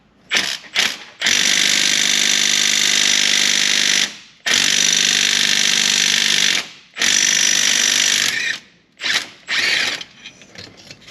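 A power tool loosens a bolt on a 2010 Ford Ranger transmission, with a loud rattling, hammering impact-gun buzz in three long bursts and several short blips between them, close and dominant.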